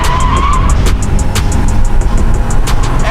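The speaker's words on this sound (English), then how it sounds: "it's now rebranded as the Toyota GR86, which I'm driving right now." A Toyota GR86 sports car on the move, heard from inside as a steady, loud roar of engine and road noise, with a rapid series of faint ticking clicks running through it.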